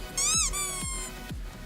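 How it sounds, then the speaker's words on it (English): A squeaky hammer strikes in a video game, giving bright toy-like squeaks with a few soft thumps in a short quick burst, fairly close and alone. "I'm gonna hit people with it and it goes squeaky"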